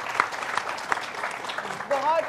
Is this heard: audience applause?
yes